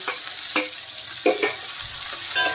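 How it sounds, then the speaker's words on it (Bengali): Chopped tomatoes added to frying spices for dal tadka, a bright close sizzle broken by several quick stirring and scraping strokes. "আর এখন দিয়ে দিচ্ছি কুচনো টমেটো।"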